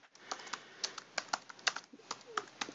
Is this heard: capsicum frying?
no